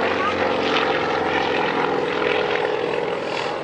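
A Yak-55M aerobatic propeller plane drones loudly and steadily overhead through an aileron turn and wingover, its engine pitch shifting slightly as it maneuvers, with a faint voice underneath.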